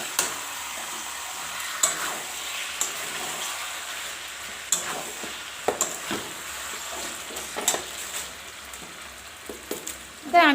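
Chicken pieces in a red curry being stirred in a covered wok-style pan, with a steady low sizzle and scattered scraping knocks of the spoon throughout, fairly close and moderate in level, no talking.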